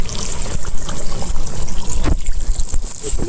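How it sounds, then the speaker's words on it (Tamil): Water from a flowing stream poured into masala and mixed outdoors in the forest for a mutton curry, a close, loud splashing and sloshing with gurgling trickles over steady rushing water. "காற்றுல ஓடுற தண்ணியை எடுத்து வந்து அப்படியே கலக்கிறோம்"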